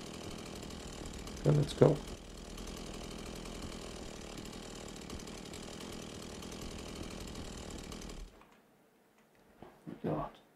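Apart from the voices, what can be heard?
chainsaw running in video game Beyond Hanwell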